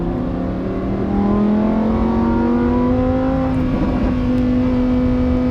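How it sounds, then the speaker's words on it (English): A Lamborghini Huracan STO's engine revs up quickly with sharp throttle response, its pitch climbing steadily into a strong, loud, continuous roar heard close from inside the car. "That throttle is so responsive and that engine revs up so quickly."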